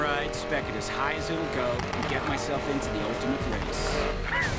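Tires squeal through a handbrake skid in the Need for Speed Payback racing game, the car's engine droning underneath the whole way, with a voice talking over it.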